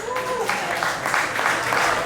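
An audience at a political event applauds, a continuous wash of clapping heard throughout, with a voice briefly audible at the start.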